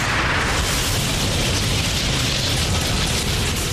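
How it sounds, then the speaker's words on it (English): A deep, continuous earthquake rumble, a dense roaring wall of low noise at constant loudness, accompanies a documentary retelling of the fault rupture beneath Kobe. "The earthquake goes off with the energy of a 65-kiloton nuclear bomb."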